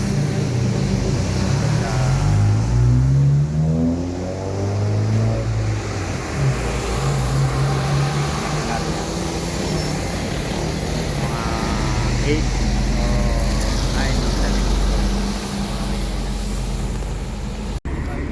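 A Tagsawa passenger bus engine rumbles steadily at a stopover on the road trip toward Mayon Volcano, with loud, continuous low drone and revving as a voice talks over it throughout.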